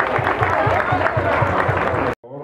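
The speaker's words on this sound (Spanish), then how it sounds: "Aplausos, por favor." Audience applause at a 10k race awards ceremony, busy clapping under rhythmic background music, cut off abruptly near the end before a brief tail of sound.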